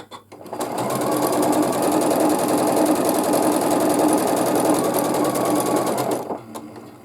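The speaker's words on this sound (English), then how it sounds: "So now I have to sew it 16 times." A sewing machine runs steadily for about six seconds, stitching quilt squares made from 5-inch pieces for a baby quilt. The motor hum is loud and close with a fast, even rhythm, then it stops abruptly with a couple of small clicks.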